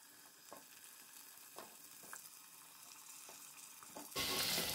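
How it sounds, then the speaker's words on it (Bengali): Pumpkin pieces frying in hot oil in a pan: a steady soft sizzle with occasional stirring knocks, rising abruptly to a louder, brighter crackle near the end. "ফ্রাই করে নিচ্ছি।"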